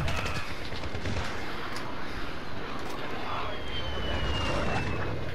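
Gunfire in a first-person shooter game on the Rust map in hardcore mode: dense, continuous bursts of rapid shots crackle steadily, with a faint aircraft-like drone in the background.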